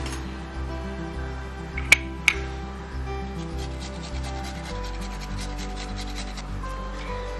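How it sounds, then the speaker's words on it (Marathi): Ginger and garlic grated by hand for egg cutlets, steady rasping strokes in a repeating rhythm, close and moderately loud, with a couple of sharp clinks early on and no talking. "हिरवी मिरची, आलं आणि लसूण मी किसून टाकते"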